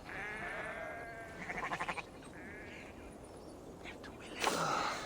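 Sheep bleat repeatedly in a wavering, nasal tone over a steady ambience in Assassin's Creed Valhalla, with a brief rapid pulsing sound midway and a sharp noise near the end.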